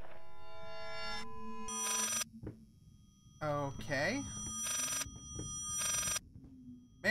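An old telephone rings in bursts in the horror game Layers of Fear, repeated rings separated by eerie warbling tones and silence, with someone briefly speaking between them.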